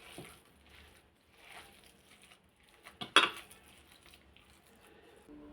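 Mutton seekh kebab mixture being mixed by hand in a bowl, with faint scattered clinks and soft scraping against the dish and one sharper knock midway, quiet and close.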